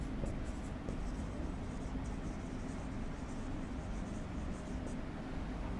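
A marker or chalk scrapes steadily across a board during a classroom grammar lesson, a faint, continuous scratching over a constant background hiss.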